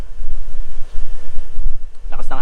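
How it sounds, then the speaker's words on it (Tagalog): Strong wind roars and buffets the microphone in heavy gusts, with a voice breaking in briefly near the end. "lakas ng hangin"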